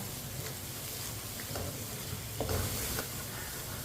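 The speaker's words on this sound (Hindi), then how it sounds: "मिक्स किए हुए अंडे डालेंगे।" Beaten eggs go into a hot pan for an egg salan, giving a steady close sizzle and hiss with a few scraping stirs and brief louder crackles partway through.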